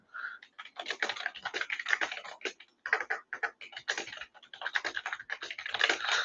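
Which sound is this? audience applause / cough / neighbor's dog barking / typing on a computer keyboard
typing on a computer keyboard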